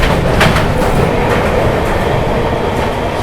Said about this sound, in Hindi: सामने से आती हुई 12304 न्यू दिल्ली हावड़ा पूर्वा एक्सप्रेस।